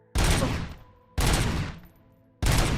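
Three heavy gunshots from the RoboCop: Rogue City video game, each a loud, booming blast with a decaying tail, spaced about a second apart.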